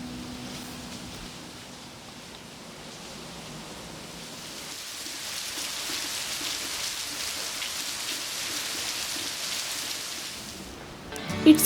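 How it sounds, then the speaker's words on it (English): Steady rain falling outside on garden plants, a soft continuous hiss with pattering drops that swells slightly midway, alone without voices. "It's raining outside and the garden plants are getting the shower."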